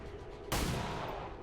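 A single abrupt burst of return gunfire in XCOM 2, breaking in after a quiet moment and leaving a short rumbling tail.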